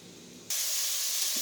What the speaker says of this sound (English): we're going to give this a minute so it can saute